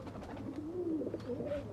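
A pet pigeon gives a soft, low coo, a single rolling call near the listener, quiet against faint background hum.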